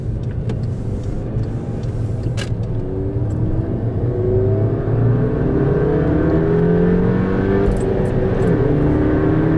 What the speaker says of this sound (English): A lot of cool noises coming from his car though. Intake noises, exhaust, the turbo.